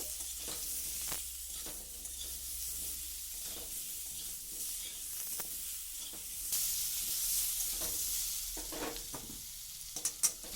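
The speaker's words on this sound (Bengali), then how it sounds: "দিয়ে আলুটাকে একটু হালকা করে ভেজে নেব।" Potato pieces fry lightly with salt and turmeric in a pan, giving a soft, steady sizzle with occasional stirring clicks, fairly quiet and without talk.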